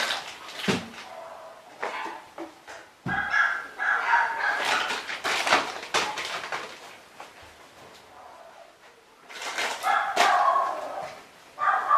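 Several dogs barking outdoors at a distance, in irregular bursts with gaps between them and a bird or two faintly in the background.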